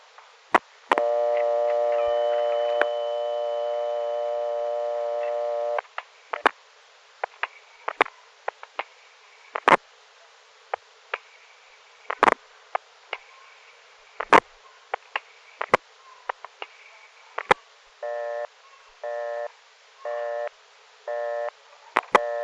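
A steady dial tone hums on a 1974 GTE step-by-step telephone line in Indio for several seconds, then stops. Sharp switching clicks follow at uneven intervals, and short pulsed tones close it out.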